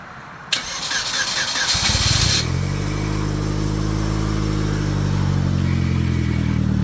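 A Hyundai Genesis Coupe's starter cranks briefly, then the engine catches and settles into a steady, loud idle with a low rumbling hum.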